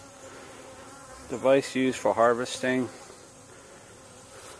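Honey bees hum around a hive during honey harvesting. A low, steady buzz continues throughout, partly covered by a short stretch of someone speaking.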